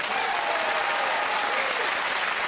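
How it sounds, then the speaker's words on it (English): A studio audience at a comedy panel show's Christmas special bursts into steady, loud applause for Jo Brand, dense clapping and crowd noise holding throughout. "So please, stand outside your front door and clap for Joe Brand."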